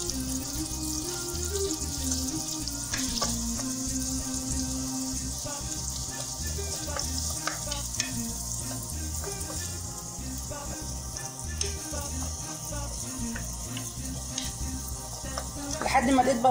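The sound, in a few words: chopped onion frying in butter in a pan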